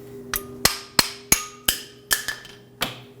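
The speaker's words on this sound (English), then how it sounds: "I'm just going to use a hammer, tap on these two ears, and it'll slide the pad straight out" A hammer taps the ears of a parking brake pad on a 2009-2011 Ford F-150, giving about eight sharp metallic clinks at an uneven pace, each ringing briefly over a low steady hum.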